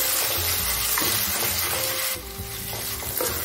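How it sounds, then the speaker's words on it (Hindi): Masala with red chili powder and turmeric fries in a pan for stuffed parwal, a loud, close, continuous sizzle with stirring scrapes and a slight dip near the end. "अब हम इसे मिक्स करके थोड़ी देर के लिए भून लेते हैं।"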